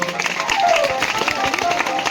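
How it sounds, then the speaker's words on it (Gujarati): A crowd of spectators gives a burst of brisk, continuous clapping for a students' mallakhamb display at a school field event, with a voice speaking over the applause. "તાળીઓથી વધાવું છું"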